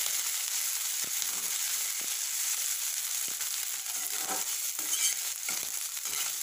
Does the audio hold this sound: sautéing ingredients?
yes